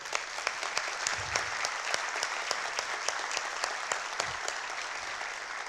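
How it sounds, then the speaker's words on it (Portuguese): A theater audience at a motivational lecture breaks into steady applause, many hands clapping at moderate volume with a few sharper individual claps standing out, continuing evenly throughout. "peço para vocês uma salva de palmas"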